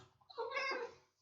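A single drawn-out meow from a house cat, close and fairly loud, rising and then fading, with no talking over it.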